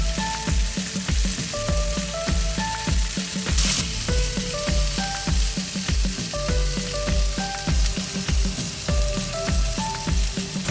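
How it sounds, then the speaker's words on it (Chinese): Crab pan-frying in a wok, a steady loud sizzle with crackling and spitting oil, interrupted by regular rhythmic clicks and clatters of a utensil against the pan, with no voices. "翻过来看看螃蟹的壳已经红了，再煎一会儿出锅。"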